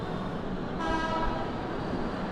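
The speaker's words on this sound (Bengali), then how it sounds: "এই হচ্ছে আমাদের ট্রেন" Passenger train on the Kolkata to Jammu route at Netaji Subhas Chandra Bose junction, where a new platform is being built; a steady close rumble, joined by a sustained horn blast partway through.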